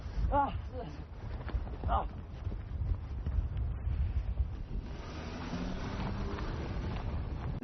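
Steady wind on a mountaintop buffets the microphone with a low rumbling roar throughout, and a person speaks briefly near the start.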